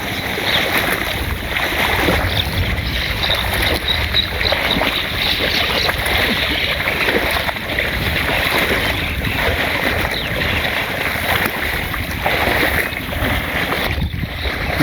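A boat is pushed through floodwater over submerged rice paddy. A continuous loud wash of water and wind noise with rushing, churning texture runs throughout, without voices.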